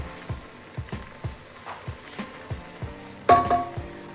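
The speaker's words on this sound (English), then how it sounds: "We'll keep on stirring so that we get the nice goldenish caramelized color" Onions caramelizing in a pan sizzle softly while a spoon stirs them in a steady rhythm of about two scrapes per second, with a brighter clatter near the end and no talk.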